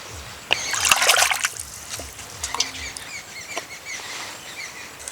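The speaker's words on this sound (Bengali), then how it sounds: "জল পাল্টিয়ে পাল্টিয়ে কচলে কচলে ভালো করে ধুয়ে নেব।" Sandy cut potatoes being washed by hand in water, with splashing, trickling and squelching bursts, loudest early then softer intermittent sloshes, fairly close with no talk.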